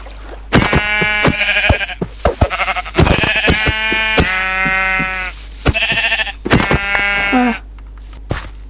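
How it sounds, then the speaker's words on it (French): Several sheep bleats from a Minecraft farm game, clear and close, arriving in a run of wavering calls spaced across the clip with short gaps between them, no talking. "Oh, un mouton."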